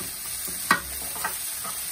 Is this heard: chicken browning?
yes